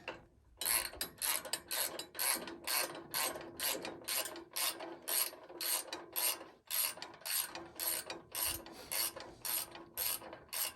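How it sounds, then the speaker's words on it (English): An old socket wrench ratchets while bolts are tightened during assembly of a Norwood HD36 sawmill, with close rhythmic clicking bursts repeating steadily, each stroke a quick run of sharp ticks, with no voices. "Put the old socket wrench on it."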